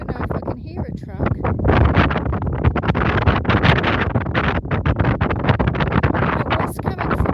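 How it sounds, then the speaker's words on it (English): Strong gusty wind buffets and roars across the microphone, loud and rumbling, with people talking underneath. "it's getting windy now, so I don't even know if I can hear a truck"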